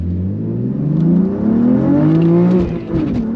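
A Honda CRX engine revs hard twice in quick succession, pitch sweeping up and down, loud and close with no talk over it.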